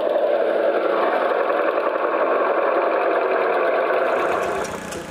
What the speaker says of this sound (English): A Lance Bulldog Model S, 1953.